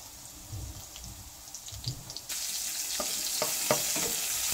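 Tofu sautés with onion or garlic in a pan, with soft stirring and handling noises at first, then a louder steady sizzle breaks in partway through, punctuated by a few sharp utensil clicks.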